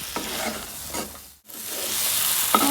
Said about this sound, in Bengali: মশলাটাকে আমি আলু সহ আর একটু ভালো করে কষিয়ে নেব